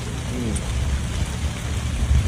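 Rain falls steadily in a dense, even hiss with a low rumble underneath, continuous throughout and with no voices.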